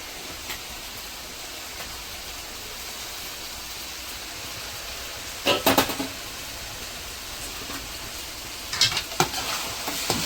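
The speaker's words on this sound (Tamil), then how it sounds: "ஒரு 6 தக்காளி வந்து போட்டு எல்லாமே நல்லா வதக்கி விட்டுடணும்" Six tomatoes with onion, ginger and garlic sautéing in a pan: a continuous loud frying sizzle, punctuated near the middle and end by a few sharper scraping bursts as the mixture is stirred, with no talk.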